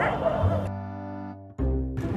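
Hungry street dogs in Morabadi give a short burst of barking and whining yips, fairly close and alone, with a brief gap before another cry.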